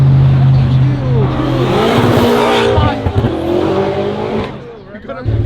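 A car spins out at a street car meet, its engine revving hard with squealing tires, loud and close, while excited voices shout over it as the roar fades toward the end.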